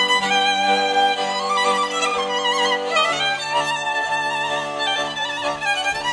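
A Hungarian folk tune on fiddle, the melody soaring freely above a steady metric accompaniment, played continuously and loud with no voices.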